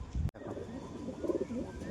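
Pigeons at a home loft coo softly in low, rolling murmurs, faint and close, after a brief sharp knock at the start.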